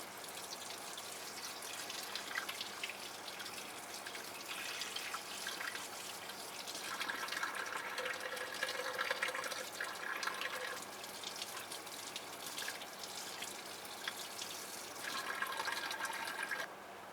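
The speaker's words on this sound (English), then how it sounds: "We might get a lot of noise from the water running" Tap water runs steadily over a freshly cleaned blue crab being rinsed of mustard and guts in a sink, a continuous close splashing hiss that swells slightly in the middle and near the end.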